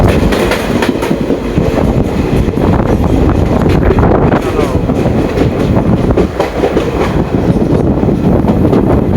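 A train rumbles past close by near Kosamba, Vadodara, with a steady clickety-clack of wheels and heavy wind buffeting the microphone throughout, loud and continuous.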